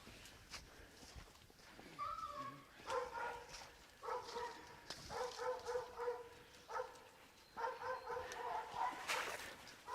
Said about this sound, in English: The dog's tied to the tree, still having a blast in there.